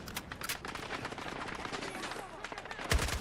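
Rapid video-game gunfire crackles in dense bursts throughout a busy firefight, with a sharper blast near the end and voices talking underneath.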